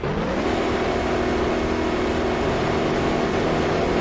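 Pro stock drag racing car engines roaring at full power during a pass, a loud, continuous, steady blast with strong low harmonic drone and no gaps, close and overwhelming.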